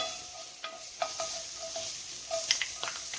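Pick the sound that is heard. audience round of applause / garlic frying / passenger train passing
garlic frying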